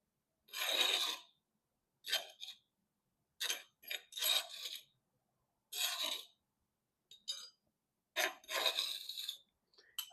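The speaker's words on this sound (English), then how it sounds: "Scrape out all of this." A fish is scraped out before frying, with about eight short, rasping scrapes in separate strokes and brief silences between them, close and clear.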